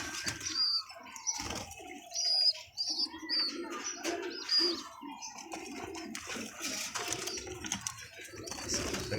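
Parrots chirp and squawk in short sharp calls, with wing flaps and rustling throughout at moderate volume.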